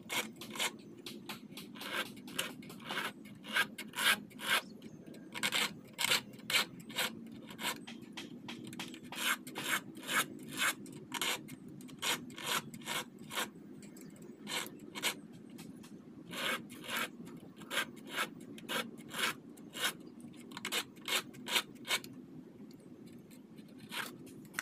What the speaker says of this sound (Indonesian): untuk bagian pembuatannya kita gunakan kikir segitiga kecil ini nih